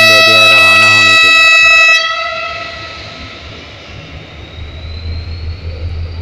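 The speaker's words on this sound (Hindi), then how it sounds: "ये देखिए पहला हॉर्न दे दिया रवाना होने के लिए।" Loud, sustained horn of the HGMU-30R-30 locomotive leading Pakistan Railway's Sir Syed Express at departure, a rich harmonic blast lasting about two seconds before cutting off, followed by station rumble and the low hum of the engine.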